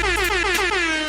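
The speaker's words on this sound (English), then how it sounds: "Air horn for you guys too." A loud, blaring air horn blast that holds steady for just over a second, with its pitch sliding slightly downward as it sounds.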